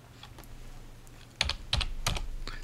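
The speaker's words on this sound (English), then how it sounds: "Type in 180, click OK." Computer keyboard typing in a model railway control setup, a few soft taps early then a quick cluster of sharp, close keystrokes in short bursts with no talk over them.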